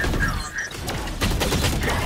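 Grenade blast and bursts of gunfire in a Valorant competitive match: a sustained, dense volley of sharp reports and booming thuds, loud and close, filling the whole moment with no clear pause.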